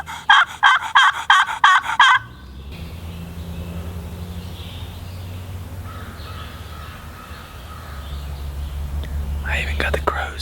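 A turkey call in a Virginia national forest sounds as a quick burst of six sharp yelps, then soft low rustling and distant ambience before crows caw faintly in reply near the end.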